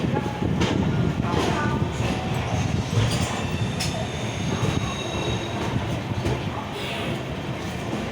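A passenger train on the Vijayawada to Hyderabad run rumbles steadily from close by, with rail noise, wheel squeal and occasional clanks over a constant low roar, and faint voices in the background.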